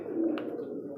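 Double-ringed pigeons on a farm give a single soft low coo, brief and faint against quiet surroundings, with no talking.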